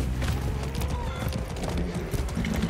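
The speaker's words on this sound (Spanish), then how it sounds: "Sé bueno, caballo." A horse in the video game Far Cry 6 trots with loud, rhythmic clip-clop hoofbeats close by, with a whinny mixed in and no one talking.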